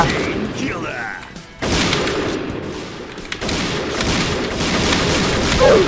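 Rapid gunfire bursts in the Point Blank (PB) shooter game, loud and continuous with heavy booms and fusillade-like volleys, someone talking excitedly over the shots.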